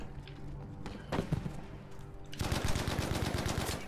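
Gold Bren light machine gun firing in Battlefield 5 multiplayer: a few scattered shots, then a steady, rapid stream of loud automatic rounds in an even rhythm for the last second and a half.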